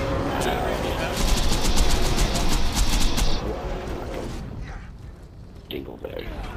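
Rapid automatic gunfire in Borderlands 2 during a boss fight with The Warrior, a fast ticking burst over a dense roar of game noise, then fading into quieter rumble, with people talking over it.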